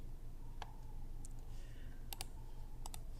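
Typing on a computer keyboard while installing a WordPress analytics plugin: a few separate, fairly faint key clicks spaced out over a steady low background hum, with no talking.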